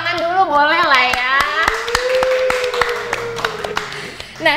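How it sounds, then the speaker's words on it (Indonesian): Hands clap in a loose, irregular burst of sharp, close claps during an Indonesian podcast. A sustained voice carries on over them, and a final clap lands near the end. "Ya teman-teman tepuk tangan dulu boleh lah ya."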